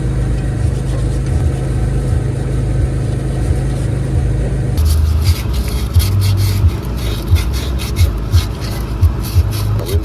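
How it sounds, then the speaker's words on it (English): Steady rasping rubs of 100-grit sandpaper on metal, then from midway quicker repeated scraping strokes, close and continuous, with no talking. "you can make it feel pretty good by just sanding on a little like that"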